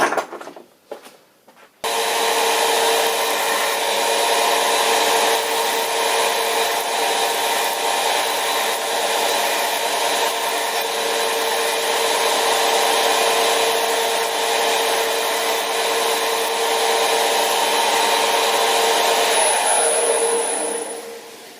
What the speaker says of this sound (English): I'm going to take my 4 and head over to the bandsaw and cut them to length